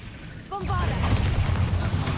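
The Bombarda spell explodes in the video game Hogwarts Legacy. A short voice is heard just before a loud, rumbling blast that fills the rest of the moment.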